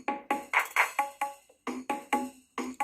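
A Casio keyboard's built-in rhythm pattern number 38 plays its start track, a steady loop of crisp percussive hits with bright tonal accents, loud and close with no talking.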